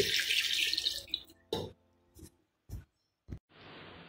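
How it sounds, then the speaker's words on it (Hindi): Water from a glass is poured into a chicken shami kebab mixture: a bright rushing pour for about a second, then scattered drips and small splashes, and a second short stream near the end, close and alone. "और अब हम डाल देंगे एक ग्लास इसके अंदर पानी।"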